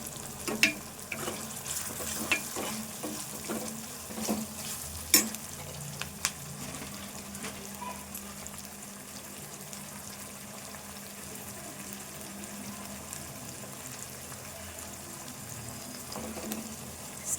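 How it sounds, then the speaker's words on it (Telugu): Ginger garlic paste fries in a pan for an onion egg fry, a low continuous sizzle with a run of scraping and tapping stirs early on, then settling into quieter frying. "అల్లము వెల్లుల్లి పేస్ట్ వేసుకొని కలుపుకుందాము. ఇది కూడా వేగాలి."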